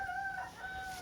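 A rooster crows alone and fairly close, its sustained call holding steady across the whole moment without any talk over it.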